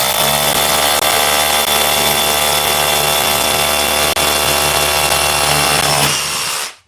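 A Flex SDS rotary hammer drill runs continuously and loud up close, a steady buzzing motor drone with a faint hammering texture that stops abruptly at the end.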